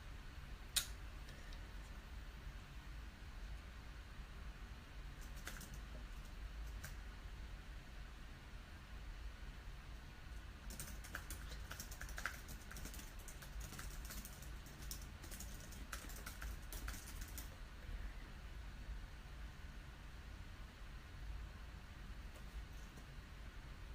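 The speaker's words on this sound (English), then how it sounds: "I can type fast" Fast typing on a computer keyboard, a steady run of quick, light key clicks with a few louder taps, close and alone over a low background hiss.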